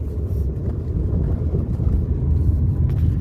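Inside a small Nissan car while driving, a steady low road and engine rumble fills the cabin evenly throughout, with no talk.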